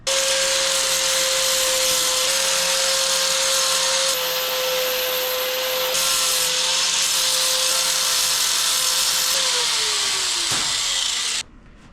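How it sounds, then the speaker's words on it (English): Sheet metal being worked in a metal brake while making body panels for a Thunder Stock dirt car, a loud, steady broadband rasp with a constant tone running nearly the whole time before stopping abruptly. "we're going to put it in the metal brake and break it"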